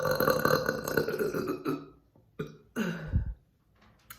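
Several deep, drawn-out burps from one person, loud and close, the first long and rumbling, then shorter bursts separated by brief pauses.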